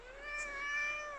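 A single drawn-out cat meow, close and clear, rising slightly then fading, with no other sounds around it.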